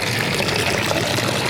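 Water pours continuously from one side of a cast stone fountain, a close, steady splashing flow with no voices.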